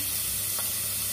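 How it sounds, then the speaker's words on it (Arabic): Onions sizzle as they go into hot oil in a home kitchen, a loud, steady frying hiss that fills the whole stretch with no talking. "هنا كده الزيت بتاعي سخن، هنزل بقى بالبصل هنا"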